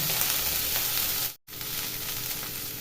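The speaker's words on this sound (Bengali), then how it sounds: "এই গরম তেলে ব্রোকিউলগুলি দিয়ে দিচ্ছি" Broccoli, drained of water, sizzles and fries in hot oil in a pan, a loud steady crackle that stops briefly midway and then resumes.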